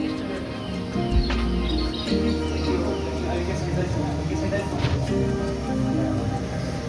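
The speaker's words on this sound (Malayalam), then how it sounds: "അതിൻ്റെ അവിടെ ഉണ്ട് വേറെ രണ്ട് പക്ഷി." Birds chirp in a habitat exhibit at the National Aquarium Abu Dhabi, with short scattered tweets over rushing water and indoor background noise while someone talks.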